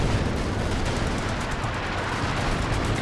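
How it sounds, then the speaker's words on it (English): An ML-20 howitzer shell strikes in Company of Heroes 2 during a 4v4 match on Lanzerath, amid a continuous, loud wash of rumbling explosions and gunfire with no voices. "Oh, big ML20 hit there"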